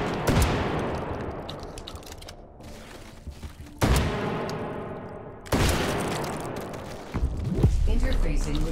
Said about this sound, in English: Grab the shotgun.